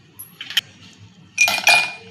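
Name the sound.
ice cubes clinking into glass of mint lemon juice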